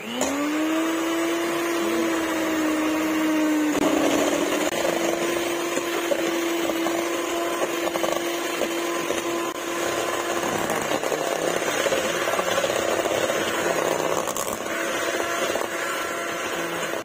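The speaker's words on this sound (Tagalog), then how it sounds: "Prepare the batter na guys. Ayan, gamitan nyo na mixer." An electric mixer whirs steadily while beating banana cake batter, its tone dropping slightly as it loads up near the start, then running continuously and loudly throughout with no talk.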